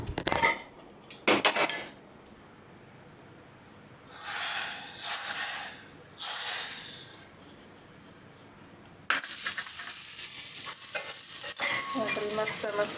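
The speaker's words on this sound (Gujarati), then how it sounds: "મસ્ત મસ્ત દાળ વઘારાઈ ગઈ છે." Dal being tempered in a pan at home: a spoon stirs and scrapes against the metal while hot spices sizzle in bursts, loud and close, with continuous frying hiss toward the end.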